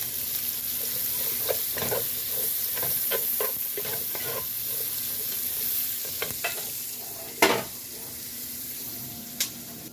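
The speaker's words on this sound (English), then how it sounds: "So we're adding the onions. And we're going to mix those around." Onions sizzle in a pot for potato soup while a spoon stirs them, with steady frying hiss, scraping strokes throughout and a few sharp clinks near the end; no one speaks.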